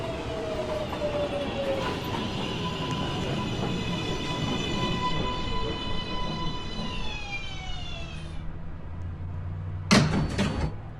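An uptown local 1 subway train on the New York subway pulls into the station at Beverly Road, its motors whining in falling pitch over a steady rumble before a few sharp clanks near the end.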